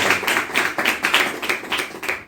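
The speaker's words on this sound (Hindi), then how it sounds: "भक्ति तालियों के साथ में स्वागत करें" A gathering claps in unison to welcome a guest author at a devotional event, about a dozen rhythmic claps at a steady moderate pace, close and fairly loud.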